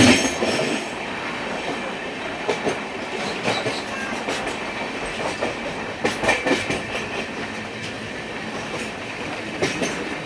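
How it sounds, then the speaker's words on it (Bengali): The Radhikapur Kulik Express, an express passenger train, rolls on rails near Bardhaman with a steady rumble, repeated clickety-clack wheel beats and occasional squeals, heard from inside the train without talk. "পনেরো মিনিট ডিলে করে আমরা ঢুকছি বর্ধমান। এখানে আপনার ট্রেন 2 মিনিট হল্ট করবে।"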